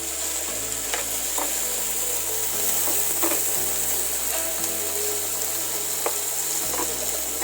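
Food sizzles and fries steadily in a hot pan, crackling continuously close by with occasional stirring scrapes and bumps, no talking over it.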